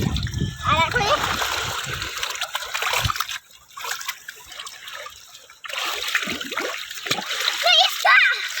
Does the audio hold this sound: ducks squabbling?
no